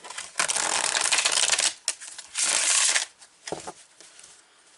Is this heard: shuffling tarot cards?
yes